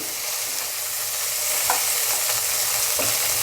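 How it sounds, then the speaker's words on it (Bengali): Shrimp dusted with turmeric frying in a pan, with a loud, continuous close sizzle and a few soft stirring scrapes, and no voices. "চিংড়ি মাছগুলো লাল লাল করে ভাজতে হবে আমি ভেজে নিচ্ছি"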